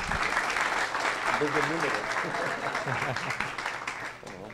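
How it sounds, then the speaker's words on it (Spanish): Audience clapping at an event honoring sports management, a dense burst of applause with a voice talking over it that fades near the end. "un aplauso"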